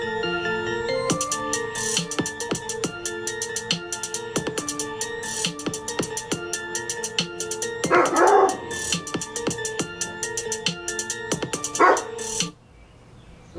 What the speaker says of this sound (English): Dogs barking in the background, man.